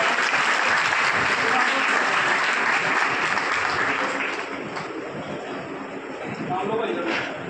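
Loud, sustained applause from an audience at a Punjabi Christian gospel song event, a dense wash of clapping that carries on steadily and eases slightly toward the end, with voices mixed in.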